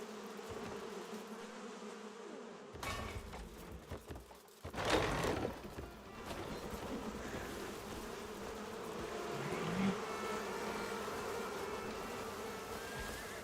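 A swarm of bees buzzes in the video game Crimson Desert. A steady, droning hum keeps going throughout, broken by a loud rustling burst partway through, with game background sound underneath.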